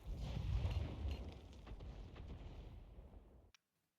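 Enemy artillery firing in a tank video game, a heavy low rumbling blast that slowly decays with crackling debris, fairly faint overall, then cutting to silence after a final click.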